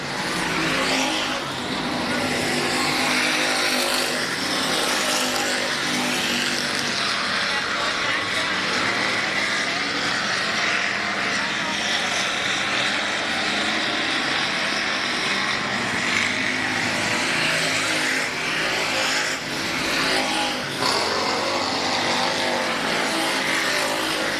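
Race cars on the final lap at South Texas Race Ranch, a dirt-track night race, engines roaring steadily as the pack passes, loud and sustained, with an announcer talking over the noise.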